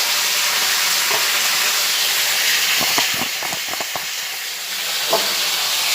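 A poppy seed and mustard paste sizzles loudly in a pan, a steady frying hiss broken by a few quick stirring scrapes midway.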